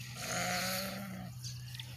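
Big sheep fighting near a village market in Africa give a sustained bleat followed by a shorter, higher cry, close and fairly clear over faint background.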